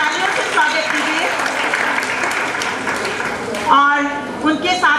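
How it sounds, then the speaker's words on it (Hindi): An audience at a World Hindi Day celebration gives loud, sustained applause to welcome a judge, with the clapping tailing off near the end as a voice speaks over it. "तालियों से स्वागत कीजिए।"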